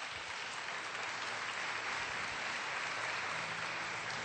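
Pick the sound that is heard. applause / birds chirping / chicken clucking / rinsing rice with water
applause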